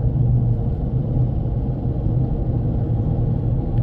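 Toyota car with a semi-automatic MMT gearbox and fault codes P0810 and P0900, driving in second gear: a steady low engine drone and road rumble from inside the cabin, loud and unbroken, no talking.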